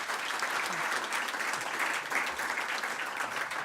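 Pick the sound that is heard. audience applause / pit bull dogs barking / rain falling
audience applause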